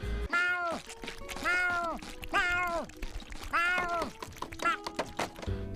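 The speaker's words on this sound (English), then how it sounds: "the meowing just makes it so annoying, so Gary is making the episode even worse." Gary the snail from the SpongeBob cartoon meows repeatedly, about five drawn-out, whiny cat-like cries in a row, loud and close with short gaps between them.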